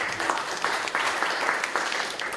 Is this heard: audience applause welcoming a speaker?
yes